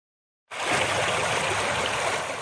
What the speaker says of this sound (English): Water rushes through the fairway at the Bluffs Golf Club just outside Port Stanley.